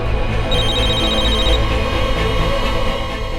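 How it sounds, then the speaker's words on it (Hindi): A phone rings continuously and loudly, its electronic tone repeating without pause. "वो तुम्हारा फोन बज रहा है।"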